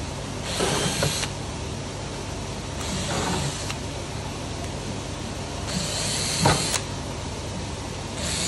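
A power drill bores holes in a plastic pool surface skimmer, whirring in several short bursts with pauses between them, against a steady background hum.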